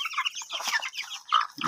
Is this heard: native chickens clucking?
yes